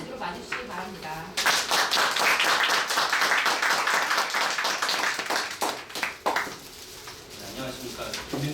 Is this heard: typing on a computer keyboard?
no